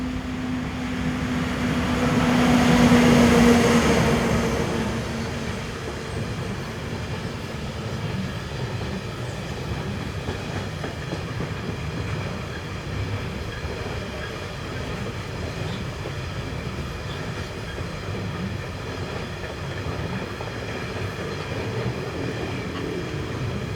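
A Swiss Class 420 electric locomotive hauls a postal service train near Olten. A rumble swells and peaks in the first few seconds as it passes, then settles into a long, steady roll of wheels and wagons.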